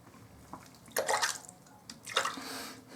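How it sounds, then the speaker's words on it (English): Right side of a face shaved with a Roedter 1909 safety razor, two bursts of crisp bristly scraping strokes around one and two seconds, fairly close and soft, with quiet pauses between. "I will shave with my Roedter"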